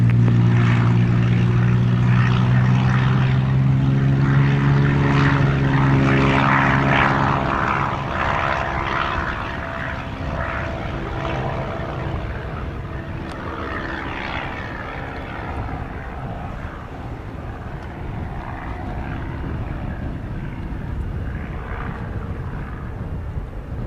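A propeller airplane at Montego Bay airport drones loudly and steadily with a strong low engine hum, easing slightly after the first few seconds and then holding on as a constant roar, with no voices.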